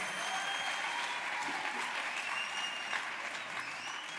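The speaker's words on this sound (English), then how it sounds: "I think they deserve a bigger round of applause." An audience applauds steadily through an evening event, a dense, continuous wash of clapping that stays loud and even from start to finish with no voices standing out.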